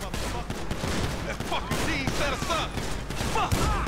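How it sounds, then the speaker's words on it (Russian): Gunfire in the video game Grand Theft Auto V, rapid dense bursts of shots in a steady rattling volley with a few louder cracks, fairly quiet and continuous. "Ой, я стреляю в своего."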